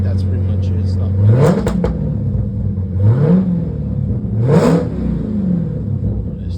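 A Dodge Charger Hellcat engine idles with a heavy rumble, then revs up in three rising sweeps that fall back to idle, loud and close.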